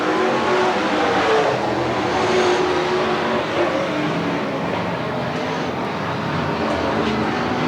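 Race cars roar around the oval at Willamette Speedway in a continuous, dense engine drone with several cars passing close together, steady and loud throughout.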